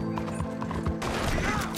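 Horse hooves clip-clop in Red Dead Redemption 2, followed by a loud, close whinny as the horse runs into things.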